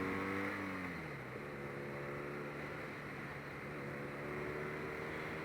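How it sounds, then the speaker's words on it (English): A 2018 BMW R nineT motorcycle accelerates under open throttle, its engine giving a steady, fairly loud drone throughout with no talking. "You open throttle and this thing goes nicely."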